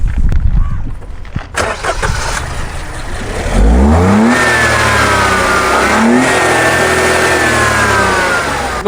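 A Maruti Swift ZXI+ with a 1.2-litre three-cylinder petrol engine cranks and starts, then revs up twice in rising and falling sweeps before settling, close and loud after some brief handling noises.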